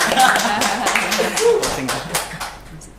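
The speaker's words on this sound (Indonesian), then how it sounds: "Tepuk tangan dulu dong" Brief clapping from a small group of hosts and guests in an Indonesian podcast studio, close and lively, mixed with talking and a bit of laughter throughout.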